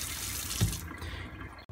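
Water runs from a kitchen faucet into the sink, a steady close wash of flow that swells briefly partway through, then drops out abruptly near the end.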